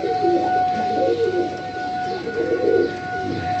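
Soft, low cooing of high-flyer racing pigeons in repeated rolling phrases, close by, over a faint steady hum; no talking.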